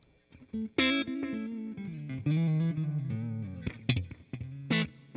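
Electric guitar run through a Line 6 Helix Floor with a light delay setting, playing a short melodic phrase of sustained, bending notes with echoing repeats trailing after each attack, fairly close and alone.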